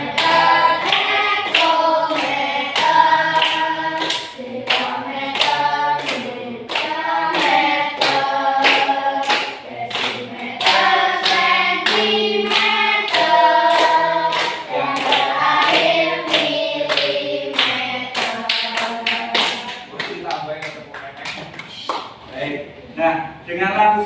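Schoolchildren clap along to a classroom song about metric length units, sharp hand claps keeping a steady beat under loud, close singing voices throughout.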